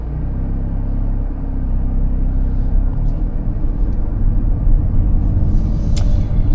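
A 2025 Hyundai Elantra N drives on the road, heard from inside as a loud, continuous low rumble of engine and road noise with slight rises in intensity and a few faint clicks.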